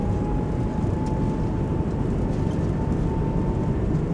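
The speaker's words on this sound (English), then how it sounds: "Goes down, reversers out, decelerating." An airliner roars steadily on its landing rollout with thrust reversers deployed, a broad continuous rumble with a faint tonal whine in an A220 flight simulator game; no voices.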